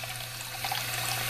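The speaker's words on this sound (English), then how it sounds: "just rinsing the brush clean." Tap water running steadily over a makeup brush as it is rinsed clean of conditioner at a sink, a continuous close splashing trickle with no talking.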